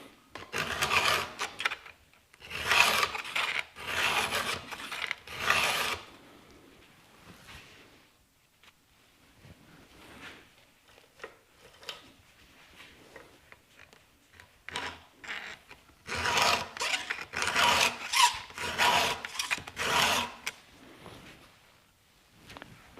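A Stihl 2-in-1 sharpener files chainsaw cutters in two bursts of quick, rhythmic rasping strokes separated by a quieter stretch of faint handling noises, close to the microphone.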